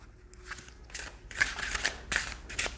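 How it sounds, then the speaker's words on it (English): Crisp riffling bursts of thin oracle cards being shuffled, several quick flutters in a row, close and fairly quiet with no talking. "Okay, so shall we see how they shuffle?"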